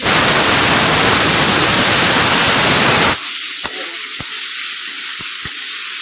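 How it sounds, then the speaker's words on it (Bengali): An intense, dense sizzle of food frying fills the first three seconds, then cuts off abruptly, leaving a quiet background with a few sharp clicks. "দেখো আমি একসাথে সব ভাজা বসিয়ে দিয়েছি"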